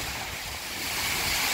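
Typhoon Uwan winds roar steadily in Daet, with a broad, unbroken rush of gusts and rain that builds slightly louder toward the end, close and dense, with no voices.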